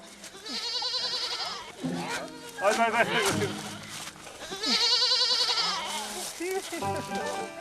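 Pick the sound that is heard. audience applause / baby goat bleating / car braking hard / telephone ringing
baby goat bleating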